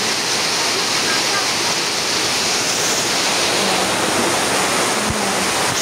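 Heavy rainwater rushes down from a highway in a torrent, a loud, constant roaring wash of water that fills the whole stretch, with a brief low thump near the end.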